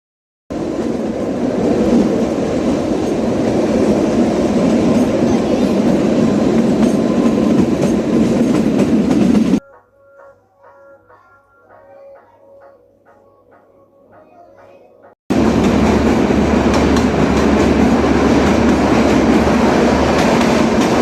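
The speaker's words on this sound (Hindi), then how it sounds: "और हमारी ट्रेन चल पड़ी।" The Kalka-Shimla toy train, on a heritage narrow-gauge track dating from 1903, rumbles loudly with wheel noise from inside a carriage, drops to a quiet hum for several seconds, then returns to a full, roaring run.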